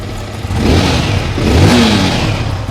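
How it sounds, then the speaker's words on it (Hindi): A 2025 Yamaha MT-15 motorcycle revs in neutral, its exhaust note swelling in two loud, close surges over a steady idle rumble. "उसके बाद आपको जो है एग्जॉस्ट साउंड सुना देता हूँ।"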